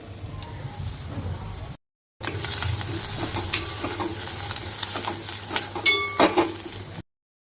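Onions sizzling and being stirred in a pan with turmeric and a little coriander, a steady close frying hiss with scraping stirs, briefly cut off partway through and ending with a few sharper clinks.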